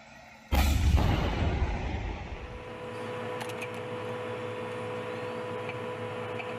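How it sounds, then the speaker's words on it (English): An M256 120mm smoothbore tank cannon fires with a single sudden, heavy blast, followed by a long rolling roar that slowly decays into a steady engine drone. "The tank's main firepower comes from its M256 120mm smoothbore cannon."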